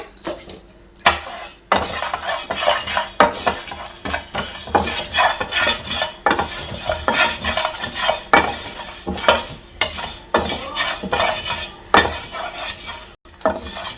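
A tablespoon of fenugreek seeds frying in oil in a kadai while being stirred, with steady sizzling hiss under repeated metallic scrapes and clinks of the spoon against the pan.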